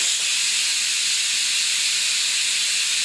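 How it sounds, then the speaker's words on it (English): Steady, loud hiss of steam rushing from a pressure cooker's valve after cooking rice, a continuous broadband jet holding level for the whole stretch with no voices. "our rice is done cooking, and I'm just going to release the pressure"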